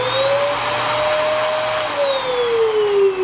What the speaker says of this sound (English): So the vacuum cleaning part of it